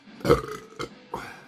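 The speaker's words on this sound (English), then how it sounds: "and that was a burp." A loud, close burp after drinking Pinkus Müller organic Münster Altbier rumbles out, followed by a couple of shorter belching sounds.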